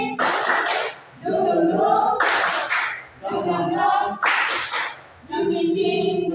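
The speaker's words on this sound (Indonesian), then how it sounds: "Satu, dua, tiga. Tepuk semangat." A classroom group claps a rhythmic spirit cheer in short bursts, each clapped pattern alternating with chanted voices, close and fairly loud.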